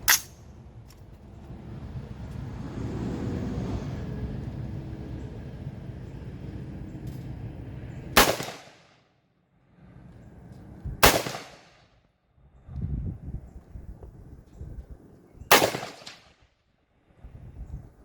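Gunfire at an outdoor shooting range, three sharp, loud shots spaced a few seconds apart, each cracking and decaying quickly, after a stretch of rumbling background noise.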